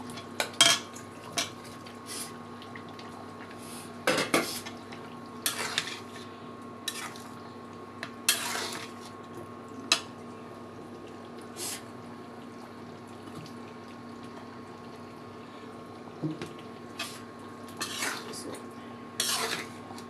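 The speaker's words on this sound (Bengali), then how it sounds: "যখন নাড়াচাড়া করতেছি মাংসটা ভালো করে কষায় নেব" Fried chicken pieces are stirred in a pan for a homemade chicken curry, giving intermittent scrapes and metallic clinks of a utensil against the pan over a steady low background hum, with no talking.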